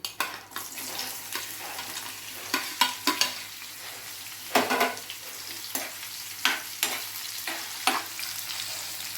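Bitter gourd pieces fry in hot tempering oil with a bright, continuous sizzle, broken by repeated stirring scrapes and clatters close at hand.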